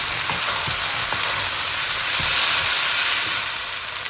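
Steady loud sizzling and frying from a curry pan of cauliflower and potato as a drained and rinsed 400 gram tin of chickpeas goes in, with a few soft stirring knocks beneath the continuous hiss.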